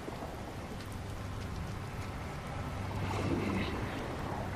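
The storm in the video game Fortnite, a steady rushing, rain-like roar with low rumbling that swells slightly toward the end, continuous and fairly quiet, with no talk.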